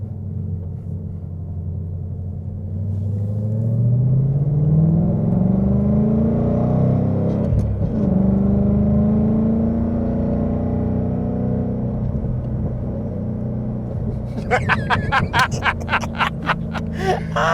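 A Ford Mustang Bullitt driven on the road, a steady low engine drone whose pitch climbs and then drops smoothly as it shifts down, followed by rattly rumbling toward the end, heard from inside the car.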